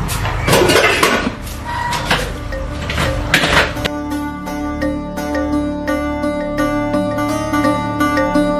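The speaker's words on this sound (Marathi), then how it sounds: "भैया आता भांडी कशाला आदळायला लागला ह्यो माणूस?" Kitchen utensils banged together at home, a burst of loud metallic clattering and clanks over the first four seconds, then ringing, resonant metal tones with light taps continuing close by.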